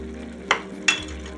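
Curry leaves and a spoon of coconut oil stirred into an anchovy fish curry in a pan, with two quick scraping clinks of a utensil over a low, steady background.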